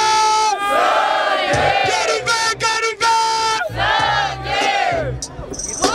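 A large crowd at an outdoor freestyle rap battle in Barueri, Brazil, cheers and yells in unison, loud chanting rising and falling in waves with sharp bursts in between.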